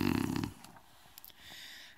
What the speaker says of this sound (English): but the bear snores on.